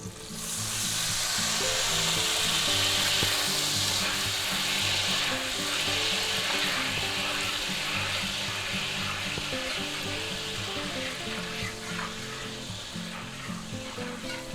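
Red drinking wine, about a quarter cup, hitting a hot pan while a sous vide chuck roast cooks, giving a loud, steady sizzle that holds for the whole stretch and slowly eases toward the end.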